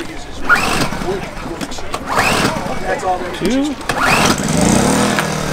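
An ALP propane generator engine being pull-started at high elevation, with repeated rope pulls and brief engine turnover sputters, loud and close, while people talk over it.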